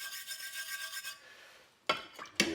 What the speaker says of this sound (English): just gently using a brass bristle brush